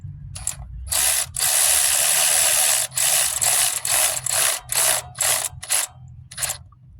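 A ratchet with a deep 12 socket turns a bolt in loud, rapid clicking bursts, long runs at first, then shorter choppy strokes with brief pauses between them.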